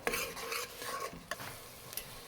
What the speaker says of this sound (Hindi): इसमें धनिया पाउडर डाल देंगे और इसको हमको तब तक भूनना है जब तक ये तेल बाहर नहीं आने लगे